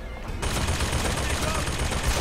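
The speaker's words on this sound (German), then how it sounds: "Er schießt." Sustained loud gunfire in the video game BioShock Infinite, a dense continuous burst of shots kicking in abruptly after a brief quieter moment, with a voice talking over it.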